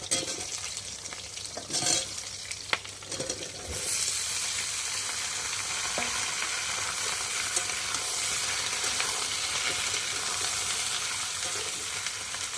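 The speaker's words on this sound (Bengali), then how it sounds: "এই যে কেটে রাখা সবজিগুলোকে দিয়ে ভালো করে কষিয়ে ভেজে নেব" Chopped vegetables sizzle and crackle steadily in a hot kadai while being stirred, a dense, loud frying hiss that starts after a few clattering stirs and continues unbroken.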